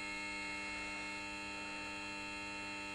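A 7.5 kilowatt three-cylinder diesel generator runs with a steady, even hum, loud and continuous with no talk over it.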